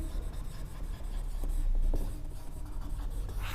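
Chalk or marker scratching across a classroom board while a biology point is written out, a soft close rubbing stroke pattern lasting a few seconds with a brief louder scrape in the middle.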